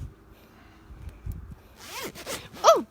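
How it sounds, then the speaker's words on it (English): A clothing zipper is pulled up in a few quick rising zips, the last one loudest, after a quiet stretch with faint low rustling at home on a rainy evening. "Can you zip me up?"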